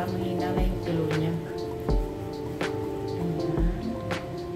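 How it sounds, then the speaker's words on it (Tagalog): Liquid dripping slowly while milk tea is being made over medium heat: a handful of distinct drips and splats spaced a second or so apart, close and moderately loud over a low, steady background hum. "Para mahina lang yung tulo niya."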